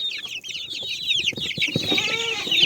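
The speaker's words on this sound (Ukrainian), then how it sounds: "Ось мої курчата" Young chickens cheep and cluck in a busy chorus of high, rapid peeping calls close by, with a few lower clucks mixed in.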